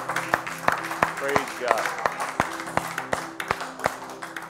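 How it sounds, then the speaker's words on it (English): Church congregation claps on a Wednesday night service, a steady rhythmic beat of hand claps about every third of a second, mid-distance and fairly loud, with a voice speaking over it and organ or keyboard tones sustaining underneath. "Give the Lord a hand clap tonight."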